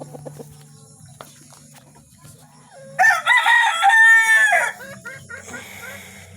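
A rooster lets out one loud, close crow lasting a couple of seconds, preceded and followed by quieter clucks and soft background sounds.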